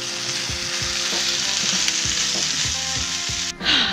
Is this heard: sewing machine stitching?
no